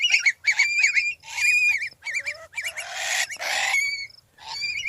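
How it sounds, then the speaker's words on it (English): Loud, harsh screeches of adult long-billed curlews in rapid repeated bursts, some with wavering warbled notes, close by with brief pauses between calls. "That's the sound of screeching adult curlews."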